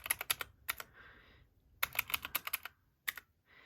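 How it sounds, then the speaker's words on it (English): Rapid bursts of key presses on a computer keyboard as numbers are typed in, several quick clattering runs separated by short pauses, close and alone. "can I please type in the numbers correctly?"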